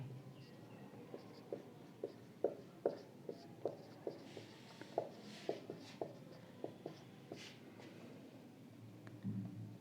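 A teacher writes an equation on a classroom board, producing a steady series of short, distinct chalk taps and strokes in a regular rhythm, close and clear over a quiet room hum, with no talking.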